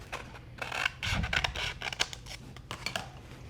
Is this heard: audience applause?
no